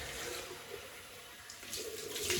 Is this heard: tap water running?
yes